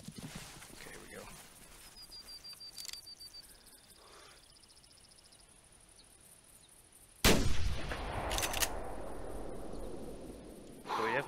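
Rifle shots at whitetail deer in the hunting game theHunter Classic: a loud sharp crack about midway, then a second burst with lingering rumble, over quiet outdoor ambience.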